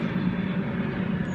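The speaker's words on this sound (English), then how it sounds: "yes, plane. That is a plane." A loud airplane passing overhead as a steady low roar with a rumbling drone, close and continuous throughout, with no talk over it.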